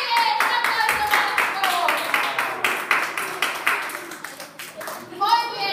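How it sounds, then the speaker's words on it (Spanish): A small group claps rhythmically for a child actor at a vacation Bible school drama, distinct hand claps in a quick regular beat, close, with voices and children talking over them. "¡Un aplauso para"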